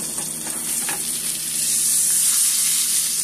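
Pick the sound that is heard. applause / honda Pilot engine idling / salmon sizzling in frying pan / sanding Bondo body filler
salmon sizzling in frying pan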